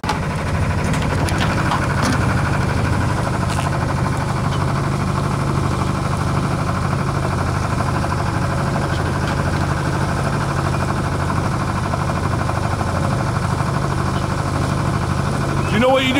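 A Westerly Centaur sailboat's engine runs steadily at idle, a constant loud mechanical drone and vibration throughout, with people talking faintly over it.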